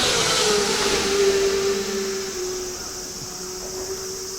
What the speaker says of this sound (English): someone's racing on this highway